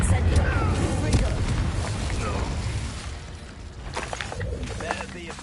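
Confringo and Incendio spell blasts in Hogwarts Legacy, whooshing fiery bursts and booms that run continuously under a player's voice, loud and close with a fading tail.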